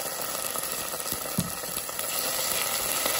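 Two spoonfuls of ready-made tomato paste sizzle and fry in a hot pan, a steady close crackling hiss with faint stirring scrapes and no voices.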